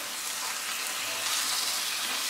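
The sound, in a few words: stirring frying raw banana peel bhorta with chilies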